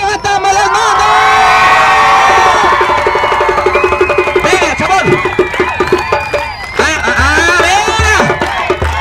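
A loud crowd cheers, whoops and shouts continuously with children's voices among it, a dense, close roar of excited audience noise that swells and dips but never stops.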